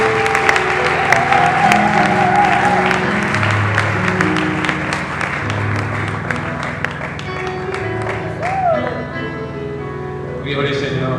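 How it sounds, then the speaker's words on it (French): Church congregation at a Sunday worship service applauding and acclaiming, a steady wash of clapping and crowd cheering with voices mixed in, loud and sustained throughout. "Alors qu'il avance, on acclame très fort le Seigneur."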